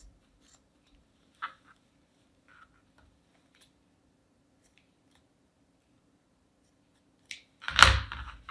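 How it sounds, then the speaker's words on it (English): Scissors cut through mittens near the thumb for a no-sew craft gnome: a few faint, sparse snips early on, then a louder, crunchier burst of cutting near the end, with no talking. "we're going to cut these mittens off right by the thumb"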